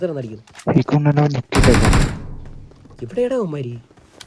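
A loud sniper rifle shot cracks out in a shooting video game, a single sharp blast with a decaying tail, set between bursts of excited talk from players.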